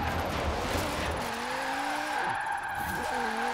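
Formula Drift RTR Mustang drifting in Forza Horizon 4, loud and close, with tires squealing in sliding wavering tones over a steady engine drone, no talk.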